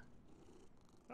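A cat purrs quietly in a horror video game, a soft low rumble steady at close range, ending in a sudden louder sound.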